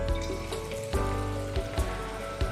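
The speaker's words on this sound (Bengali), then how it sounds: "এবার ফ্লেমটা মিডিয়াম করে দিয়ে একে একে পকোড়াগুলো তেলে দিয়ে দেব" Chicken pakoras frying in hot oil over a medium flame, a crackling bubbling sizzle with several sharp pops and scraping clicks, close and moderately loud with no talking.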